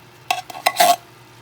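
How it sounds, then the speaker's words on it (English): Spoon stirring gravy into cottage pie meat filling in a pan makes a few short scraping, wet swishes close by, with a soft sizzle and quiet gaps between strokes. "Now you're going to stir that around."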